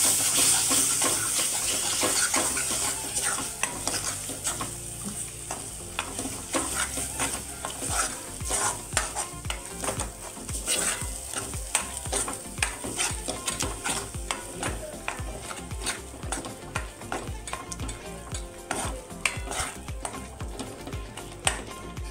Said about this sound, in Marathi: आता हे वाटण व्यवस्थित या मसाल्यांमध्ये मिक्स करून घ्यायचे।